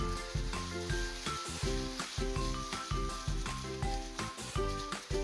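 Mutton kebabs frying in a pan over low heat, a steady close sizzle with a rhythmic pulsing pattern as they cook, no voices over it.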